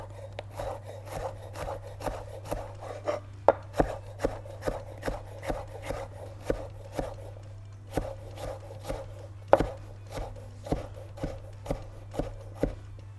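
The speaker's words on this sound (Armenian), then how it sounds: "բայց մի քիչ ավելի մանր եմ կտրատում" A knife chops cucumber finely on a board in a home kitchen, sharp even taps landing about twice a second over a low steady hum, with no talking.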